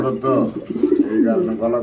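A chocolate-coloured flying pigeon at a pigeon farm coos in deep, rolling, throaty phrases, repeated several times close to the microphone.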